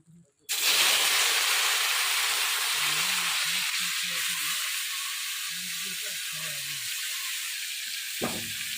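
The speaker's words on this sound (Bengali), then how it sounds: "আগে কল্যাটা ভাজে নেই।" Bitter gourd fries in a pan in a Bengali village kitchen, starting with a sudden loud sizzle that settles into a steady hiss with low bubbling underneath and a brief clatter near the end.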